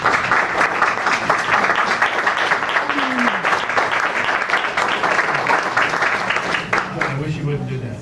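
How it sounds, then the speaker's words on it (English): An audience applauding former Congressman Ackerman with steady, dense clapping that holds for several seconds and then begins to thin, while someone speaks over the end. "You shouldn't get applauded."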